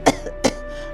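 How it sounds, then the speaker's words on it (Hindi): Two short, harsh coughs from a witch in a Hindi cartoon story, close up, spaced about a third of a second apart over a faint steady background hum. "चुड़ैल की खांसी अभी भी खत्म नहीं हुई थी।"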